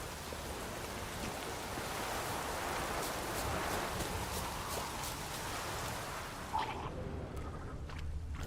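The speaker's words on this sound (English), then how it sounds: "Looks like rain." Steady hiss of rain falling in The Witcher 3 Wild Hunt, an even wash of patter throughout that thins slightly near the end, with no talking.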